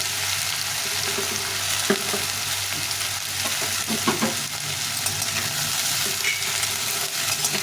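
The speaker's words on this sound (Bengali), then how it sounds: "তো এইভাবে ঝিঙেটা ভেজে নেবো" Two large ridge gourds fry in a pan with a steady, close sizzle and crackle, broken by occasional stirring scrapes and light taps, with no talking.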